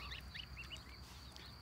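Several ducks quacking in short bursts, fairly close, over a soft background hum.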